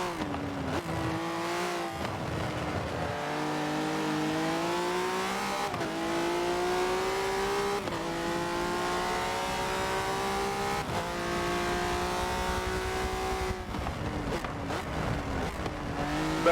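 A race car engine in a racing video game revs hard and continuously on the Nürburgring GP circuit, its pitch sliding up and down through gear changes, with brief tire squeals and no voices.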